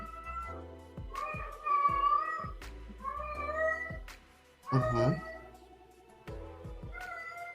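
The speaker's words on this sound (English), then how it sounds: "And I think my kitty agrees. Do you guys hear her?" A cat meows repeatedly, several drawn-out, tonal meows spaced through the clip, close by, with one louder, harsher yowl near the middle.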